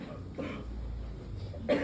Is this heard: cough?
yes